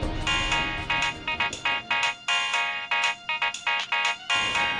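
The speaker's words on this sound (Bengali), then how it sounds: "মম তোমার ফোনটা।" A mobile phone ringtone plays as a loud, close electronic melody in repeated bursts of bright tones, with short gaps between phrases, ringing through nearly five seconds without talk.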